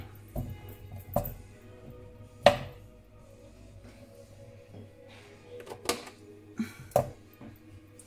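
A kitchen knife cuts through ham on a cutting board for a cauliflower gratin, giving a handful of sharp, irregularly spaced chops, close and fairly quiet, with brief pauses between strokes.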